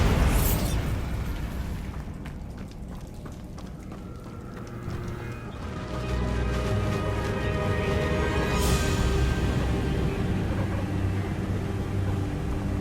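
A Bombarda blasting spell goes off in Hogwarts Legacy, a loud booming explosion at the start followed by a sustained rumbling, crackling roar of debris and magic effects that swells again midway and runs to the end.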